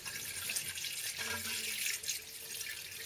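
Coolant poured into the cooling system of a GT car, a steady close gurgling trickle of liquid flowing in, with no one speaking.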